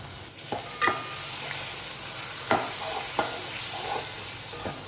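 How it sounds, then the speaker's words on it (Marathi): Peas and potatoes being stirred into masala rice in a pan: a steady soft sizzle with a few sharp scraping clicks of the spoon against the pan, close and fairly quiet, no talking. "वटाणा आणि बटाटा टाकूया आपण आता ह्यात. चांगलं मिक्स करून घेऊया."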